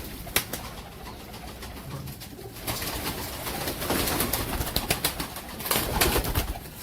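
A Salar Teddy pigeon coos softly at close range, repeated low throaty calls among faint scratchy clicks and small movement sounds, with no one speaking.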